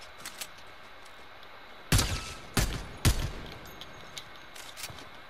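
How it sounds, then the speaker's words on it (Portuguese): Three sharp gunshots in the video game Fortnite ring out in quick succession mid-clip, each with a short echoing tail, over a faint game ambience with a few smaller pops. "O botezinho deu um tiro na gente ali."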